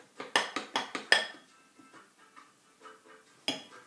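A utensil knocks quickly against a bowl of raspberry loaf batter, about six crisp clinks in a row, then softer scraping and one last sharp tap, close and fairly quiet.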